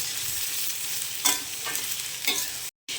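Snake gourd sautéing in a pan with salt, turmeric and chili powder, a continuous close sizzle with two or three scraping stirs before the sound cuts out briefly near the end.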